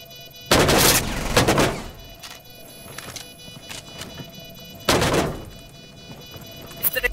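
Two loud, booming shotgun blasts in Rainbow Six Siege, one near the start and another about four seconds later, each with a heavy low-end thump and brief decay over quiet in-game background noise.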